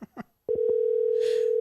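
A steady telephone dial tone, a single continuous pitched hum that starts abruptly after a few brief muffled sounds and holds loud and close to the end.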